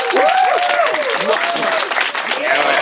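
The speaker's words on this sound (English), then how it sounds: "Give him a round of applause" An improv show audience bursts into loud, close applause mixed with cheering and whoops, voices rising and falling over the dense clapping throughout.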